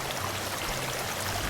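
Water drains steadily in the video game Drainsim, a soft continuous rushing trickle like a small stream, low and even for the whole stretch with no voices.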